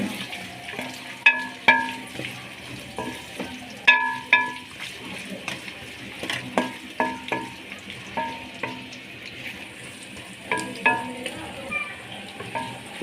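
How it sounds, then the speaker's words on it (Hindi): Potato pieces fry in an oil-filled pan while a spoon stirs them in a village kitchen, giving steady sizzling under repeated scraping taps with an irregular rhythm, close and fairly loud. "आलू को हमने पहले फ्राई करना है इसी में"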